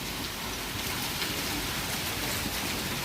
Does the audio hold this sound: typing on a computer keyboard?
no